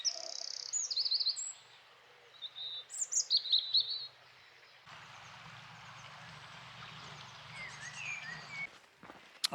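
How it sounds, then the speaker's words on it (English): Birdsong along a country lane near Mungrisdale in the Lake District on an early spring morning: clear chirps and short warbling phrases at a moderate distance, then a low rustle of footsteps beneath fainter calls. "just listening to the birds singing"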